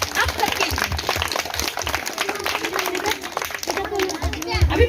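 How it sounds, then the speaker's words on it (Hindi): Children clap together at a school Gandhi Jayanti celebration, a loud uneven burst of hand claps with some voices and chatter mixed in. "सारे बच्चे एक बार बढ़िया से ताली बजा दीजिए आप सबके लिए।"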